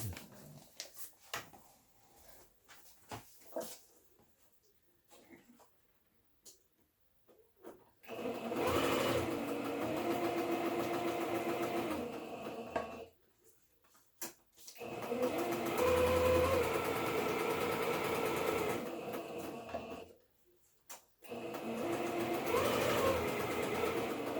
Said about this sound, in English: I'm going to sew around it.